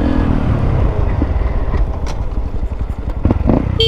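A Honda Grom motorcycle runs close by with a rough, buzzing engine rumble and some clattering, the note sputtering and rising briefly near the end.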